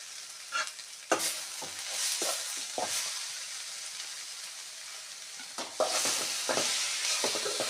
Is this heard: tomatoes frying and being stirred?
yes